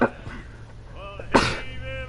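A single sharp sneeze bursts out near the microphone partway through, loud and brief, with a faint voice murmur and game sounds during a livestream of Assassin's Creed IV: Black Flag.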